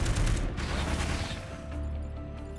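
Machine gun fire in the turn-based strategy game Into the Breach: a loud, continuous rattling barrage with a heavy low rumble, fading slightly into a humming tail near the end, with no voices.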